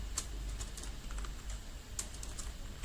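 Keys tapped on a computer keyboard while typing Python code, a quick irregular run of light clicks over a steady low hum, close and fairly quiet with no talking.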